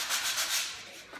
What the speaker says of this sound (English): So I might just quickly give the edge a bit of a sand.